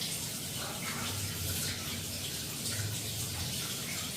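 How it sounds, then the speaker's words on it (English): Water runs from a kitchen sink tap while something is rinsed under it during cake baking, a faint, steady hiss with slight splashing variations, no voices. "let me rinse this really quick in the sink"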